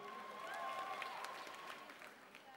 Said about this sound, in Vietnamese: hãy một lần nữa dành tràng pháo tay chúc mừng